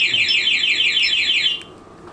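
Anti-theft alarm on a Fazzio scooter sounds loud and close, a rapid warbling electronic siren repeating steadily for about a second and a half before cutting off into quiet background.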